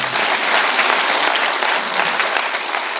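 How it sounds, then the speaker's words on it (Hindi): Loud, sustained applause from a large crowd at a Buddhist gathering, steady clapping filling the whole stretch without a break. "एक बार जोरदार ताली बजा सम्मान।"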